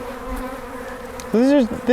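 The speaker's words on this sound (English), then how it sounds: "These are the wild bees that are in Southern California" Wild bees in Southern California buzzing steadily and close, with a louder, rising and falling buzz as one passes very near the microphone toward the end.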